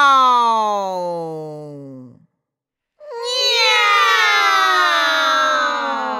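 Two loud, drawn-out meows with a short silent gap between them, the second longer and wavering, close and clear with no other sounds.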